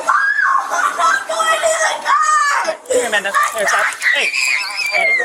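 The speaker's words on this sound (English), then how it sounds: "that girl was literally screaming." A young girl screams loudly and shrilly in a recorded emergency-call situation, with piercing, distorted cries broken by crying and agitated speech throughout.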